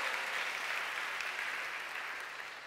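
A church congregation at a Sunday service claps together in a dense, even burst of applause that holds steady and slowly fades, moderately distant, with no talking.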